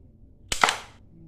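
A toy gun fires at a cardboard target: two sharp, close cap-gun cracks in quick succession, loud and alone, with a short fading tail.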